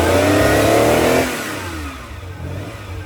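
A 1979 Ferrari 512 Boxer engine with triple Weber carburetors revs loudly and close, holds high, then drops back toward idle, the pitch falling away smoothly.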